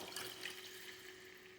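Water poured into a pot of curry chicken as it cooks, a soft steady trickle for a moment with a faint faucet-like tone, fairly quiet and with no talking.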